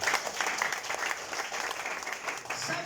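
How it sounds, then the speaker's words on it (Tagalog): Applause from a church congregation during a service, a dense sustained patter of many hands at moderate distance, with some voices mixed in underneath. "Yung palakpak niyo po,"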